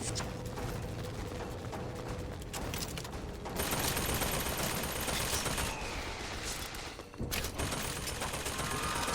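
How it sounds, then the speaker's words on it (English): A volley gun in Bioshock Infinite fires continuously, producing dense, loud bursts of gunfire and explosive impacts with a brief gap near the end. "I'm going to take that volley gun because everything else is out of ammo"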